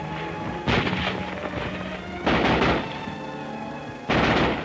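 Wartime street fighting in Paris, with three loud blasts of rifle and gunfire crashing through a busy urban soundscape, each burst echoing briefly before the next.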